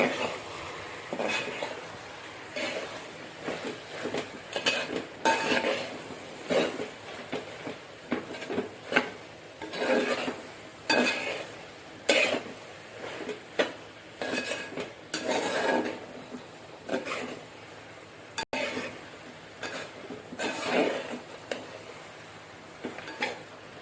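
Chicken tossed with curry leaves in a pan for Chicken Chinthamani, a utensil clattering and scraping in irregular bursts against the metal over a faint sizzle, close and steady throughout without speech.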